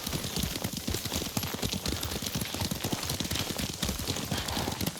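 Horse hooves clip-clop in a steady, rapid gallop during riding in the samurai video game Ghost of Tsushima, loud and continuous with a faint wash of ambient noise behind.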